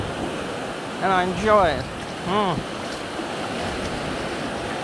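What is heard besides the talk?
ocean waves at the beach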